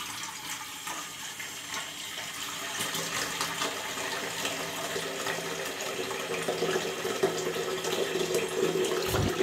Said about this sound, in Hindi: मैंने सोचा इसमें पहले पानी डालते हैं जल्दी से और आलू को उबलने के लिए रख देते हैं।